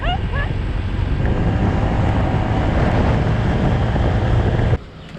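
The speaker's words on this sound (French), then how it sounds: "on se prend plein de vent dans la tronche" Heavy wind buffets the microphone on a scooter riding at about 50 km/h around Phuket, Thailand, a loud continuous roar that drops away abruptly near the end.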